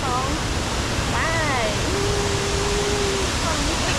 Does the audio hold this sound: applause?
no